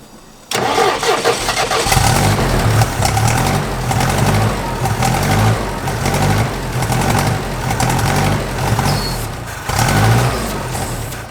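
A 1980s Yale / Eaton forklift engine cranks and catches, then runs loud and close at a rough, steady idle with a few brief revs.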